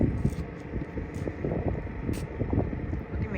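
Wind gusting outdoors by the water at a Dubai fishing spot, a steady rumbling buffet across the microphone with no break, close and fairly loud.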